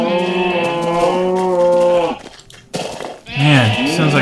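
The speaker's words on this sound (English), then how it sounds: "sounds like a crazy zoo. Cross between all the cows and sheep." Cows and sheep from the Minecraft Tropicraft mod call in loud, close, drawn-out moos and bleats, several overlapping in succession with a brief gap near the middle.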